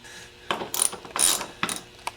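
A ratchet with an 8 mm socket works on the vacuum pump of a Mercedes 300D, producing a few quiet bursts of rapid clicking separated by short pauses, close and alone.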